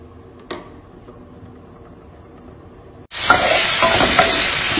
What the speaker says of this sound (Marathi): तितून ऑयल घालून ऑनियन फ्राय करपाचो पयलीं